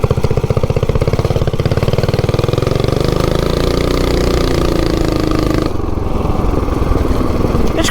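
A 420cc minibike engine with a 40-tooth sprocket roars loud and close as it launches and climbs to about 30, a steady harsh drone that eases off near the end.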